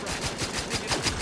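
Rapid automatic gunfire from the video game The Outer Worlds 2, a dense burst of evenly spaced shots rattling through the whole moment at moderate loudness.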